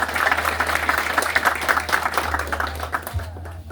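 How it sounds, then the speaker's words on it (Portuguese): Applause from a community meeting crowd in São Sebastião, DF, honoring a deputy, a steady patter of clapping that fades out near the end. "Quero dar uma salva de palmas para eles."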